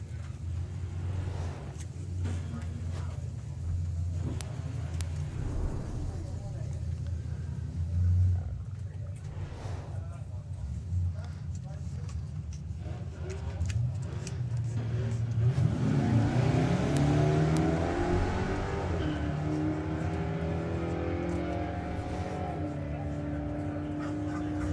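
Sportsman ET drag racing cars and a truck at the Greenlight Nationals 2025, engines idling and rumbling at the line, then a loud rising roar as the vehicles launch and accelerate away, with an announcer talking over it.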